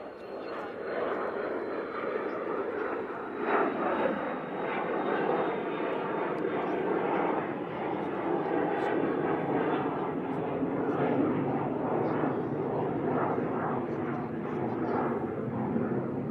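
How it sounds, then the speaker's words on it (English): A Pegasus Airlines Airbus A321neo jet coming in to land at Manchester Airport, a steady engine roar with faint voices murmuring underneath it throughout. "And we have the Pegasus coming in. It's the 321 Neo."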